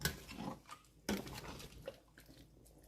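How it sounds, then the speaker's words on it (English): A spoon stirs Ademé, a Togolese jute leaf stew, in a cooking pot, giving soft wet squelches and a few light metallic scrapes and taps, close and fairly quiet. "now you stir everything together"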